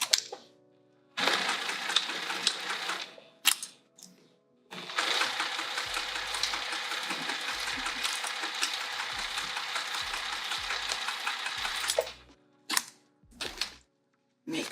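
A sewing machine stitches a vinyl luggage sleeve in two long steady runs of rapid whirring needle strokes, close and fairly quiet, broken by short pauses and small clicks between bursts.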